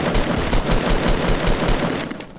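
Rapid automatic gunfire from a Fortnite match, a dense, loud stream of close shots in quick rhythm with no break, tailing off slightly at the end.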